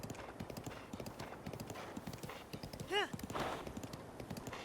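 Horse hooves clip-clopping at a steady trotting rhythm in Zelda Breath of the Wild, with a brief whinny partway through and a voice talking faintly underneath.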